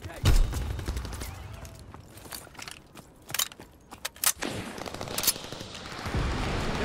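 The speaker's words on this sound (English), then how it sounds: "Fighter aircraft ready for strafing run." Fighter aircraft strafing run in Call of Duty: rapid bursts of heavy machine-gun fire and impacts crackle in clusters, loud and near, over a constant rumbling game background.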